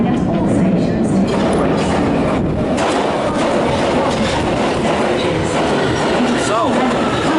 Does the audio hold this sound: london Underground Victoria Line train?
yes